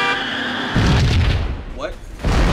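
Grenade launcher rounds from the noob tube go off in Max Payne, two heavy booming bursts with a short lull between them, loud and close.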